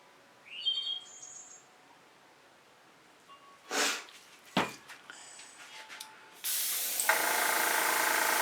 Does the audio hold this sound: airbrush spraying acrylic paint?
yes